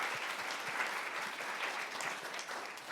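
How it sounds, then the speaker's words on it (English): An audience gives a dense, sustained round of applause to a panel at a nursing advocacy event, a steady wash of many hands with no pauses. "Let's give some applause, this wonderful panel"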